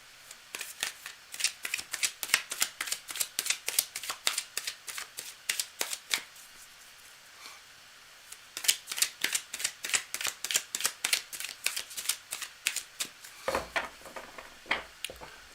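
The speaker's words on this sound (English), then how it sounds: "I'm going to keep shuffling" Cards shuffled over and over for a live card reading, a close, crisp run of rapid riffles and snaps in steady bursts, with a brief lull in the middle and a low thump at the end.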